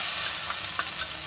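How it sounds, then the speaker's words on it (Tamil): Boiled squid frying with masala in a pan for kanavai sambal gives a steady, close sizzling hiss with a few soft stirring scrapes. "நம்ம வேக வச்சுருக்க இந்த கனமா மீன் அதை போட்டு நல்லா வறுத்துடுங்க"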